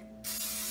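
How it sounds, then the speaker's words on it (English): Cooking spray hissing onto a bundt pan in one loud, steady burst that starts abruptly after a brief quiet moment and continues to the end, close and unaccompanied by talk. "I'm going to spray my pan with"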